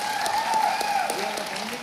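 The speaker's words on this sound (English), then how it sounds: "I would like to hear a big round of applause for both of them" Audience applause for Vishwa and Yashwant, founding directors of Paima Foundation, at a youth fest: steady, dense clapping sustained at an even level through the whole stretch, with some tonal murmur mixed in.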